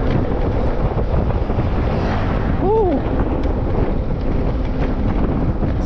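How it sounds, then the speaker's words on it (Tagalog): Strong wind buffets the microphone outdoors at a wall cladding job site, a constant loud roaring rumble filling the whole stretch, with a brief tonal voice-like sound in the middle. "Mahangin."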